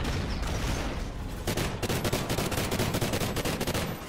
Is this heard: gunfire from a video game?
yes